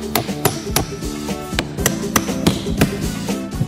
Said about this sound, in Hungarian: A mi esetünkben beütjük a dűbelt.